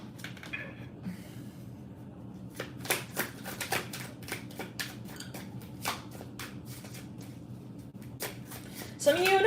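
Tarot cards are shuffled for a chakra card draw in a run of quick, crisp riffling snaps and taps. The sound is close and moderately faint over a soft background hum.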